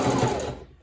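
A domestic sewing machine stitches elastic into the leg opening of a leotard, a short close run of motor whir that fades out within a second, with no voices.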